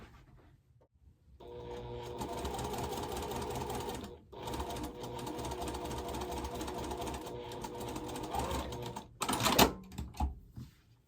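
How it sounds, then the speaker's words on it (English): A sewing machine stitches squares onto a quilt block in a steady, close, fairly loud run, with a brief pause near the middle and a burst of sharper clatter toward the end. "And then we need to take a G-square and sew it at the left-hand bottom. And I'll sew on the line."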